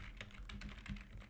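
Quick, light keystrokes on a computer keyboard tap out a short terminal command, a few soft clicks in a quiet room.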